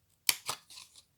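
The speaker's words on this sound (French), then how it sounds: "On va maintenant couper ici en bas." Scissors cut through paper for a folded paper craft box, giving three short, crisp snips in quick succession, close and fairly loud against a quiet room.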